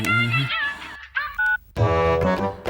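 Telephone dial tones beep briefly in a Tamil comedy film scene, a short pair of steady electronic tones between louder music and voices.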